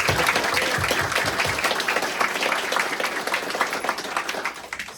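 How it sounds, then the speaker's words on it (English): A gathered crowd applauds at the grand opening of a first responders rest stop, a steady, fairly close wash of clapping that holds for several seconds and fades slightly toward the end. "Let's give a little round of applause."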